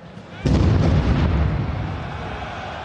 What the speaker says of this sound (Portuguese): 5 minutos depois, mais uma explosão.